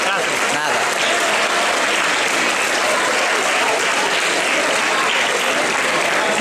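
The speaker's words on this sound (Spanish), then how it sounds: "con un fuerte aplauso a la Coral de San Martín de Sotrondio" Loud, continuous audience applause fills a hall at the opening of the Nabos 2024 festival in Sotrondio, welcoming the San Martín de Sotrondio choir, dense and unbroken throughout.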